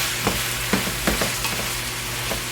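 Finely chopped vegetables stirred into a hot pan with chorizo, steady loud sizzling broken by scraping stir strokes every half second or so, no talk.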